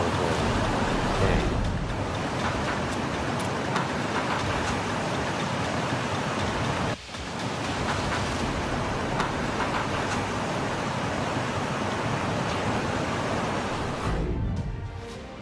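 Fast, powerful flood water that tore away a heavy iron bridge roars as a loud, continuous broadband rush, dipping briefly midway before surging back at full force.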